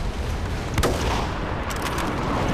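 L96A1 sniper rifle shots ring out in a video game, a couple of sharp cracks over a continuous rumbling battle background.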